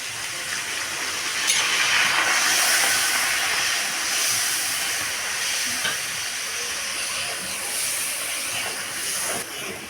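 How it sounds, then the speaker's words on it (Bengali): Ginger paste fries in a pan with a continuous, even sizzling hiss that stays close and steady, with no speech over it. "আদা বাটাটা ভাজা হয়ে এসছে,"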